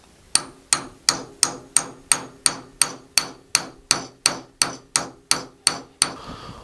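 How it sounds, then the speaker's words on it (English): Fifteen evenly spaced hammer strikes ring out loud and close, a sharp metallic tap roughly every half second, staking the front sight into the slide of a 1911 pistol. "you're mushrooming over the bottom of that front sight"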